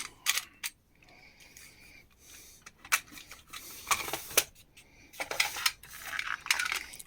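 Loose metal screws and Jubilee hose clips rattle and clink as they are sorted by hand in a box of thrift-store odds and ends, coming in irregular bursts with short pauses.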